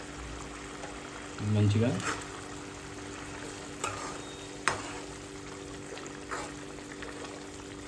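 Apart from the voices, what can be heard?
eggs added to simmering onion gravy in a pan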